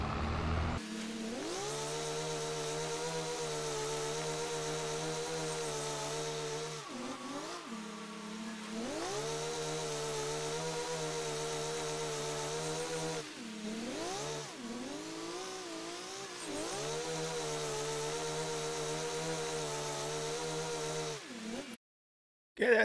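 A tractor engine drones while cultivating a field in the Farming Simulator 22 video game. The steady hum rises and falls in repeated revving swells and briefly cuts out twice, loud and continuous, with no voices.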